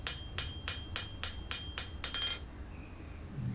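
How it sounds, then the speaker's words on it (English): Hammer forging a mediaeval-style folding knife blade on an anvil: about nine sharp, ringing blows at a steady, even rhythm, then a quick cluster of lighter bouncing taps before the ringing fades. No talking. "You really want to keep your anvil clean so that you don't hammer the scale back in."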